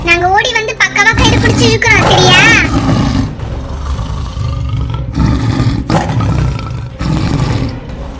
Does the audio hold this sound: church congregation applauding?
no